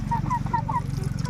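Native chickens clucking and calling in a short run of near, repeated squawks over a steady low rumble of background noise.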